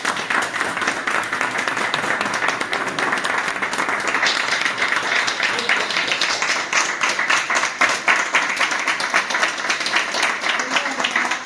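Sustained applause from a crowd at the inauguration of a Catalan festival kàbila, dense steady clapping continuing for several seconds without speech.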